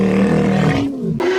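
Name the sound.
low-frequency lion roar sound effect for T-Rex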